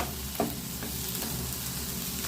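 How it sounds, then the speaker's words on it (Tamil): Cauliflower fries in a pan while being cooked down for a Tamil-style dish, a continuous close sizzle with a light stir or scrape near the start and no talking. "இப்போ காலிஃப்ளவரை நல்லா இறக்கி விட்டு"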